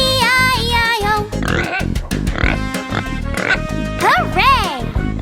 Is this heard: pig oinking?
yes